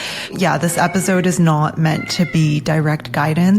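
A cat meows repeatedly and loudly, with drawn-out, wavering cries close to the microphone. A person talks at the same time.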